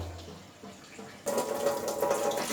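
Kitchen items being rinsed under a running tap, a steady loud gush of water that starts abruptly partway through after a quieter stretch of background noise, with no talking.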